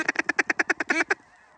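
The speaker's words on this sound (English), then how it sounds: "Oh, lots of ducks." Ducks from a flock flying overhead during a waterfowl hunt in western Manitoba, Canada, give about ten rapid, evenly spaced loud quacks in quick succession, then a faint trailing call.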